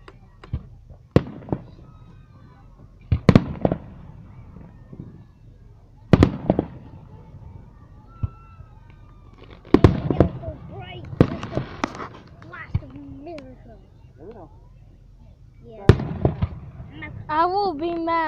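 Fourth of July fireworks and firecrackers burst nearby in loud, irregularly spaced bangs and crackles. Whistling trails rise between them, and people talk and shout excitedly throughout.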